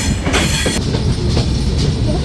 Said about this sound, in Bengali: ছয়টা বেজে পাঁচ মিনিট ট্রেন প্রবেশ করছে